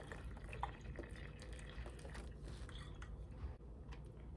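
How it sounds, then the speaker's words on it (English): Water is poured gently onto already damp potting soil around fresh stem cuttings of lime, croton and false aralia, giving a soft, faint trickle and scattered drips that continue steadily at close range with no talking. "I'm gonna give this a little bit of water first."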